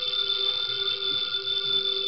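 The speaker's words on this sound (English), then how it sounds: "the ringing of that phone bell means mystery, adventure." A telephone bell rings continuously as a radio drama sound effect, a loud, steady electric jangle with no pause and no voices.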